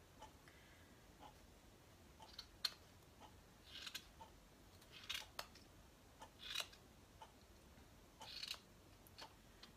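Scissors cut through a knitted sweater sleeve, making a series of faint, crisp snips at an irregular pace, close up in a quiet room.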